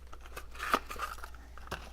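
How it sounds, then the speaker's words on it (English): Scissors snip the ends off paper while making a greeting card, with a few quiet, crisp cuts and one sharper snip, close and alone. "grabbing my scissors, cutting them off"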